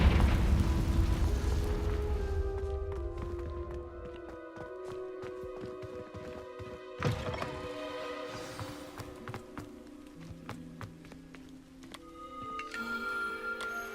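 A fire blast spell exploding in the Hogwarts Legacy video game near the school, a loud burst at the start fading into crackling and rumble, with another impact midway over game music.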